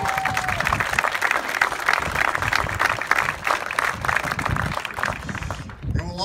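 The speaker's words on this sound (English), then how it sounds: "This is where we all cheer." Audience applause at the official opening of a CANEX store at Garrison Petawawa, steady close clapping from a crowd lasting several seconds before tapering off abruptly at the end.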